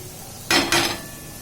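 Ground chana dal spread over sautéed onions in a pan for jhunka, giving two short bursts of scraping and clinking against the metal, close and fairly loud, with quiet room noise before and after.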